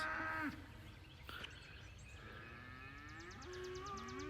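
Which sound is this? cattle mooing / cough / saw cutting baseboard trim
cattle mooing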